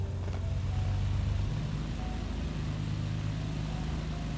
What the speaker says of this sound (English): Hopefully engine sounds not too loud